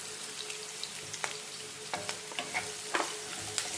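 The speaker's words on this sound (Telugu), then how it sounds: "ఇది కొంచెం వేగనిద్దాం." Sliced onions and curry leaves fry in a hot pan for a moringa leaves fry, giving a steady close sizzle broken by sharp crackles and the scrape of stirring.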